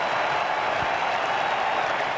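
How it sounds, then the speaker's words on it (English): A large crowd at a cricket Test match applauds a winning run, a dense, sustained wash of clapping with no voices over it. "Listen to the crowd."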